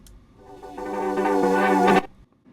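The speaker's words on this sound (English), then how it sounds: "And then there's a little transition noise that's made up of frozen audio of the Moog in the last section." A short transition noise built from frozen audio of a Moog synth, swelling from near silence into a thick buzzing harmonic drone that cuts off abruptly after about two seconds.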